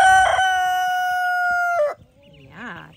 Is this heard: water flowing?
no